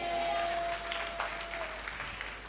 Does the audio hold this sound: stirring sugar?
no